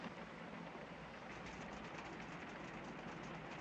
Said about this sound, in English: This train is not stopping for another 22 hours, folks.